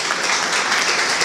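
An audience at a film festival award ceremony in Ruvo del Monte, Basilicata, applauds a senator with a dense, steady, loud burst of clapping that holds evenly throughout.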